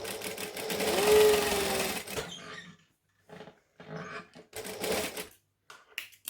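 Sewing machine top stitching a sling bag, running in a loud continuous burst for about two seconds, then several shorter bursts separated by pauses.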